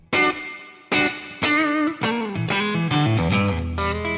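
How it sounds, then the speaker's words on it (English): Electric guitar played through a tube spring reverb placed before the amp on a Fractal Axe-Fx III, with a Deluxe combo tone: a string of plucked notes and chords with a shimmering, splashy reverb tail, alone with no talk. "This is a typical spring reverb on the combo amp that I suggested to use before the amp, not after"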